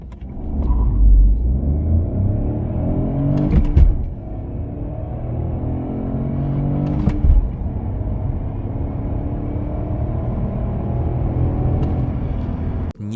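Opel Astra L 1.2 Turbo with 130 hp engine accelerating from inside the car, a steady rising drone with two brief gear-change dips, continuous and close.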